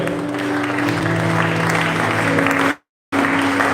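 A church congregation applauds loudly and continuously at a worship service, a dense close roar of clapping that cuts out abruptly for a moment near the end and then resumes.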